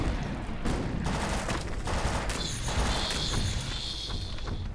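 Gunfire in the video game Defiance: a dense, loud, continuous barrage of overlapping shots and bursts with a metallic clatter, filling the whole stretch without pause.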